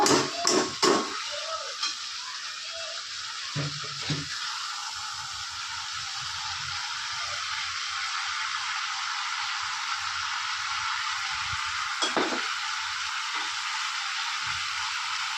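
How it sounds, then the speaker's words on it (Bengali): Chopped cabbage is stirred into a frying fish-head mixture in a pan, a steady soft sizzle with a few scraping clicks of the spatula early on, alone without talk. "এবার যে বাঁধাকপিটা কাটা ছিল এটা মিশিয়ে দেব।"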